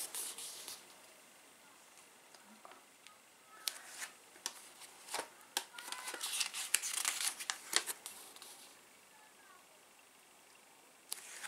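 Pages of an Avon cosmetics catalog flipped by hand, a series of soft papery rustles and crinkles that cluster and grow busier midway, close and quiet with no voices.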